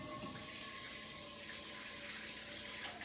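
Water runs steadily into a wok to loosen food stuck to its not-yet-seasoned bottom, a continuous close splashing pour lasting a few seconds with no talk.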